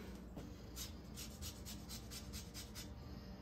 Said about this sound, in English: And now I'm going to zest my lemon.